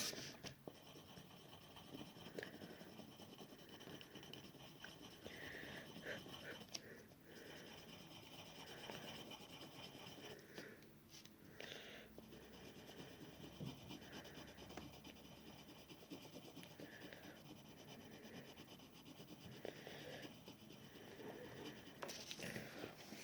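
Pencil scratching and scribbling across paper while sketching a simple cartoon figure, a steady close rubbing texture with short stroke rhythms running throughout.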